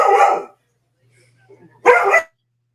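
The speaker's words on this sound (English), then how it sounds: "I guess his dog is acting up" A dog gives two loud, close barks separated by a quiet pause of over a second.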